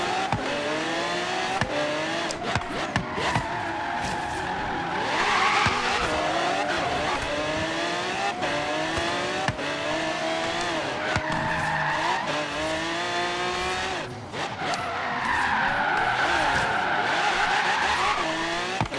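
Cars in the racing game Forza Horizon 3 roar and rev continuously, with repeated long tire squeals and skids as they slide through turns, loud and steady throughout with no talking.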